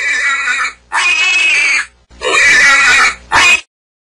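A pig oinks and squeals loudly in four separate bursts, the second and third longer, with short pauses between them.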